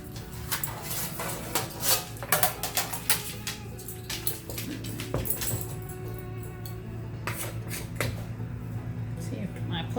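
Two spoons scraping and clinking as cookie dough is scooped onto baking sheets, a run of quick metallic taps and scrapes close by while someone talks.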